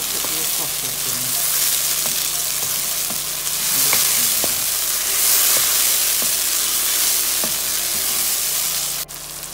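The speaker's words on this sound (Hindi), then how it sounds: "अभी इसमें लहसुन अदरक पेस्ट डालेंगे और साथ से टमाटर, इनको अच्छे से पका लें" Garlic ginger paste and tomatoes fry in a pan with a steady, close sizzle and hiss, broken now and then by the scrape and tap of stirring.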